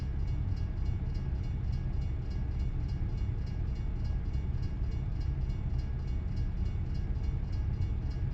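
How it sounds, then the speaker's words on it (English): A freight train rolls past in the American Truck Simulator driving game, a continuous heavy rumble of rail cars that holds steady throughout without any speech. "Where the heck is this train?"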